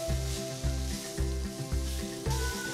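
Shiitake mushrooms, carrot batons and daikon sizzle steadily in a hot pan for a stir fry, with rhythmic scraping and tossing of the vegetables every half second or so, close and loud.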